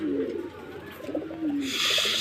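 Pigeons offered for sale give low, rolling coos in a close, steady sequence, with a brief burst of higher rustle or flutter near the end.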